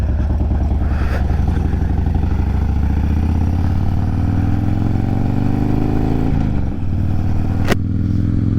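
A carbureted motorcycle engine runs steadily and loud after carburetor tuning, its pitch slowly climbing as it revs, with a brief dip and a sharp click near the end.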